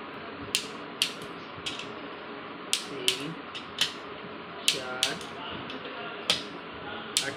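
Torque wrench ratcheting while tightening bolts to 20 newton metres on a Hyundai Grand i10 Nios petrol engine during crankshaft fitting, heard as a series of sharp, close clicks spaced irregularly over a steady background of workshop noise.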